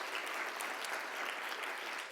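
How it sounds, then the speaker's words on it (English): Audience applause at a nurse leaders' conference, a steady, even wash of clapping from a crowd that sustains without a break and carries no voices over it. "Give her a huge round of applause."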